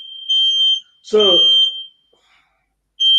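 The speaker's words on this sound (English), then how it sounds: "my alarm went off, I think" A fire alarm goes off in loud, repeated high beeping pulses, and a person's voice cuts in between the beeps.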